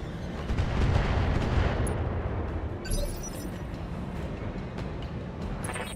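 Battletech mech weapons firing at a turret, rendered as a dense, rumbling barrage of blasts with a sharper hit partway through and continuing low booms behind it.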